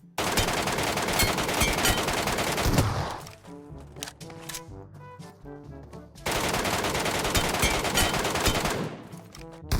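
Automatic gunfire from the Metro Royale mode of a shooting video game rattles in two long, loud sustained bursts, with a gap of single scattered shots between them.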